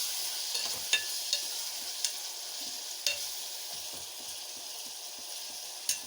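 Sliced onions fry with salt in a pan for a fish curry, a soft, steady sizzle with occasional sharp clicks of a spoon stirring, fairly quiet and with no talk.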